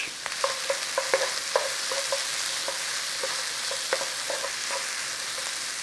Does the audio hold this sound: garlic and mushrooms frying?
yes